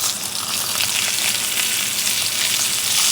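A ribeye steak sizzles loudly in a hot pan after being turned, a dense, steady crackling hiss throughout.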